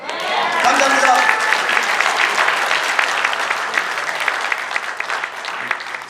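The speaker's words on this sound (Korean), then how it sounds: "다시 한번 박수 부탁드립니다." Loud, sustained applause from an audience at a press-centre gathering, dense steady clapping that swells early and slowly tapers, with some crowd noise mixed in.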